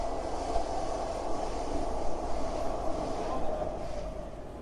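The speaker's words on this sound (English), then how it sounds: "feeling the rumble of trains beneath the streets" Subway trains rumbling beneath New York City streets, a continuous low, fairly faint roar with a steady hum and no distinct voices.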